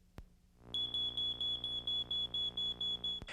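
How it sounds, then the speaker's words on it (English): A household smoke alarm shrieks in a steady series of loud, rapid high-pitched beeps for about three seconds, starting after a brief quiet moment and stopping abruptly. "When the alarm first sounds,"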